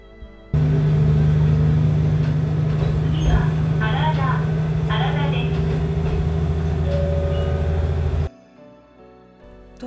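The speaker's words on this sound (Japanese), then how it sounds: "そして戸和田駅を発車。" A Tenryu Hamanako Railway train pulling out of Towada, an elevated station, heard from on board: a loud steady rumble and low motor drone with rattling and squeaking wheels, ending abruptly into quiet.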